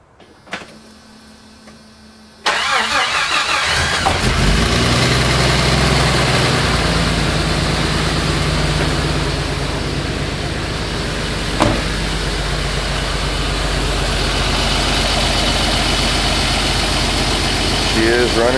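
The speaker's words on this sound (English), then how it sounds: "I get a shot of the engine as I crank." A Jeep engine cranks briefly and then catches, settling into a loud, steady idle that runs on alone for the rest of the stretch.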